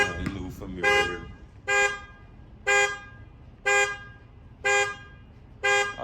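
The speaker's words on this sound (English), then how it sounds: "when they freaking cut this car alarm because that's annoying" Car alarm blaring outdoors in a repeating pattern of six evenly spaced, loud honking bursts about one second apart, with faint background noise between blasts and no talk.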